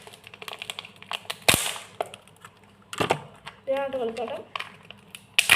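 A blue chocolate egg being cracked open and unwrapped, sharp close snaps and crinkling foil rustles scattered among brief clicks, with a voice talking intermittently.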